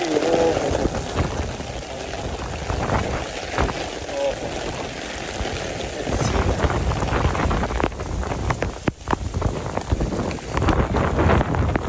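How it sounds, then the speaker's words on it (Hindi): Heavy rain in China pours steadily as a constant broadband hiss with wind buffeting the microphone, sustained and loud throughout; a voice speaks over it at times. "बहुत तेज़ बारिश हो रही है, बहुत ज़्यादा तेज़"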